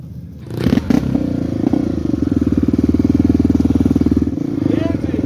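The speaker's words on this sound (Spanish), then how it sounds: "Bueno, largué la moto, largué la moto." A Tornado 293cc motorcycle engine revving on a rough sierra trail near water, starting with clatter and thumps, then settling into a loud, close, rapidly pulsing engine note that dies away near the end.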